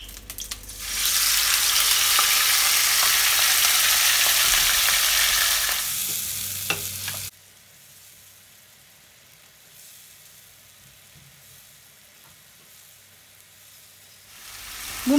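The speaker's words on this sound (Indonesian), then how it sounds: "Tumis bumbu yang dihaluskan." Ground spice paste hits hot cooking oil in a pan and sizzles loudly and steadily for several seconds with some stirring, then the frying drops to a quiet low hiss.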